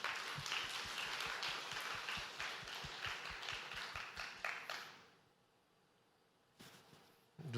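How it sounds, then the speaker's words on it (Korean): A church congregation applauds in a dense, steady burst of clapping that holds for several seconds, then cuts off abruptly into near silence before a brief soft rustle. "우리 시간 하나님께 영광의 박수 올려드릴까요?"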